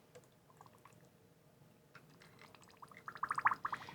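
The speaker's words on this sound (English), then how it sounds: "I'm going to pour the water in the center" Water poured from a watering can into a salt cure, starting as faint scattered drips and trickles, then building into a louder gurgling, bubbling pour toward the end, heard close up without talk.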